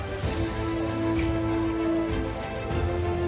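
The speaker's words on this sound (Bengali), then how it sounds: "পানি এখন পড়তেছে" Water pours and splashes steadily down from a building damaged by gunfire, a dense, continuous rain-like patter that stays loud and close throughout with no voices.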